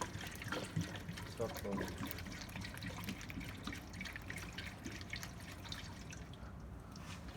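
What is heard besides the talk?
water poured into a car radiator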